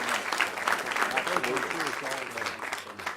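Applause for the coaches rises through a parish council meeting hall, a steady patter of many hands with a voice talking over it.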